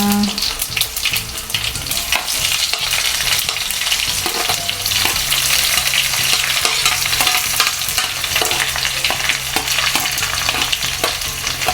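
Sliced onions sizzle loudly in hot oil with curry leaves for a Jaffna-style chicken curry, a dense, continuous frying crackle punctuated by close spoon-stirring scrapes, with no talking.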